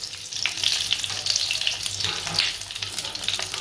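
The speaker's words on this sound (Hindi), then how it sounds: "अब हम इसमें एक एक करके बैंगन को इस तरह से रख देंगे" Small whole brinjals set into hot oil, sending up a loud, close, continuous crackling sizzle that surges and settles across the moment with no talking over it.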